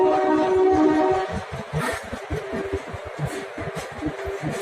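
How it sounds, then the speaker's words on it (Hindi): An ALCO diesel locomotive hauling an Ajmer–Beas special train in India, its engine giving a loud, close, rhythmic chugging throb with a steady tonal hum over it. "सुन रहे हो एल्को की साउंड?"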